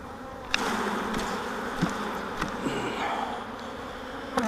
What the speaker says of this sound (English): So I'm gonna shake these bees off.